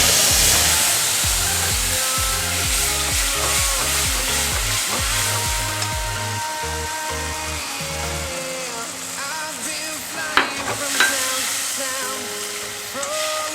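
A spice paste of cumin, ginger, garlic, tomato, onion and chilli powder frying in oil, a loud continuous sizzle that holds steady throughout with a couple of sharp clinks near the end, close and without talk.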